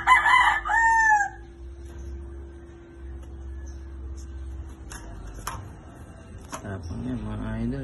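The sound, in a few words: GBH gamefowl rooster crowing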